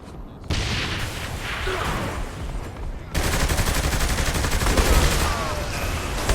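Video-game gunfire and grenade blasts in Saints Row: The Third roar as dense, continuous bursts of shots and booms, louder and heavier after a brief lull midway.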